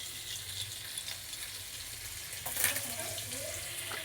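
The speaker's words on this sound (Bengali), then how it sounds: "তেলের সাথে একটু বাটার দিয়ে দিচ্ছি" Butter and oil sizzle in a frying pan on a home kitchen stove, a steady hiss that runs the whole time with a brief louder flare partway through.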